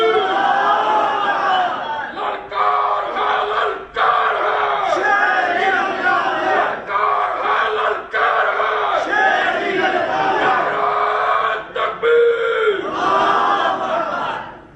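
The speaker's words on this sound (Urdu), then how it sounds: "بس وہی نعرے نہ لگو، ٹائم نہیں۔" Large gathering at a religious speech chanting slogans in loud unison, rhythmic bursts of massed voices rising and falling with brief gaps between calls.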